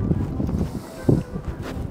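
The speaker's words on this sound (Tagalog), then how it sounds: "And sobrang hangin niya." Strong outdoor wind in Oslo on a cold, dark afternoon buffets the microphone with low rumbling gusts and rough bursts of wind noise, near and uneven throughout.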